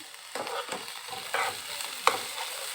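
Ginger-garlic paste added to onions that have turned reddish-brown, frying in a pan with several scraping stirs and a sharp clink of a utensil against the pan, while a soft sizzle runs underneath.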